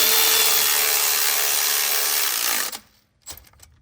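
Milwaukee power tool snugging bolts on a Ford 6.7 fuel filter relocation mount: a loud continuous buzzing whir that cuts off abruptly, followed by a few faint clicks and knocks in near silence.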